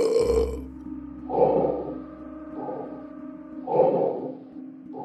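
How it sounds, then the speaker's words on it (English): Burping in an animated Christmas scene, a pair of loud, drawn-out belches a few seconds apart, each with a gurgling, voiced tone, over a faint background hum. "what you burping?"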